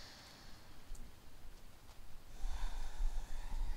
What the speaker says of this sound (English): We'll take one more deep breath here.